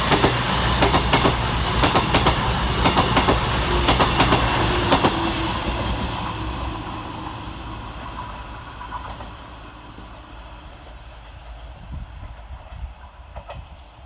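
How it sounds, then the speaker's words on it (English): Class 221 diesel unit 221133, a CrossCountry York to Bristol Temple Meads service, passes through Woodhouse railway station on a diverted Midland Main Line route, loud and close at first with rumbling wheels, then fading steadily into the distance. "Following on his heels is 221133, working 1 Victor 48 for cross country from York to Bristol Temple Meads"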